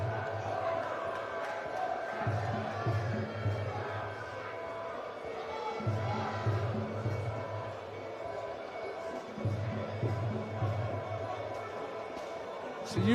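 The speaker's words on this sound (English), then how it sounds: "Jack has got an incredible amount of support in the crowd. I don't have to tell you because you can probably hear it." Crowd noise fills a Muay Thai fight-night venue, a steady distant roar of supporters with rhythmic surges beneath a commentator talking over it.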